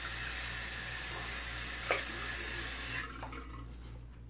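Cold water runs from a tap into a sink during shaving, a faint steady hiss with a few splashes before it cuts off near the end.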